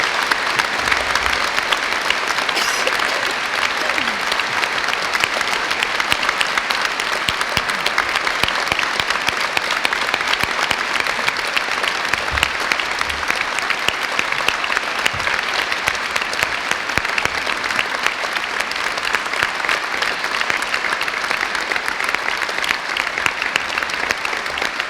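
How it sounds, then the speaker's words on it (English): Sustained applause from a large audience honouring graduates at a university degree ceremony in Ely, dense and steady for the full length with no break. "join me in giving them a huge round of applause"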